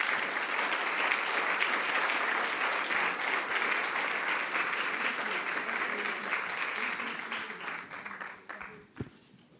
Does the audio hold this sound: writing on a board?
no